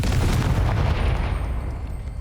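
A Confringo blasting spell exploding in Hogwarts Legacy, a dense, loud rumbling boom that fills the moment and slowly fades.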